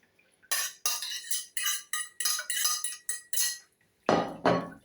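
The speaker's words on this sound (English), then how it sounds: "Give it a bit of a stir." Fish pie filling stirred in a pan, a series of sharp metallic clinks and scrapes from a utensil against the pan in an uneven rhythm, close and clear, with no talking.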